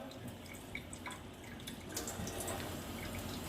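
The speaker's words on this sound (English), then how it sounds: "I'll probably get a bit of water going here, but when I turn it to the side, see how it goes to the ionizer?" Water runs from a kitchen faucet fitted with an ionizer attachment, a steady faint splashing flow with small drips, growing slightly louder partway through.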